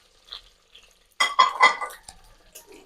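Sliced onions and curry leaves drop into hot oil, setting off a sudden burst of crackling sizzle after a quiet start that then fades into lighter sputtering, with a faint tap or clink in the quiet opening.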